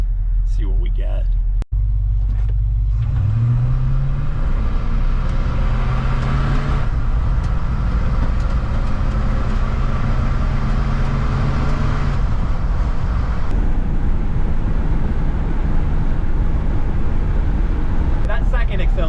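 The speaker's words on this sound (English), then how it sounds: "I'm gonna actually try one more acceleration test and see what we get." A 1975 Ford F250 with a 390 FE V8 on a carburetor comparison pulls hard under acceleration, its loud, steady engine roar climbing in pitch as it gathers speed, heard from inside with a voice at times over the drone.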